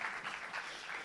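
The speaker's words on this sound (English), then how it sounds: "Will you please put your hands together and give an amazing round of applause" Audience applause for a performer at a small live music venue, a brief faint wash of scattered clapping at a distance.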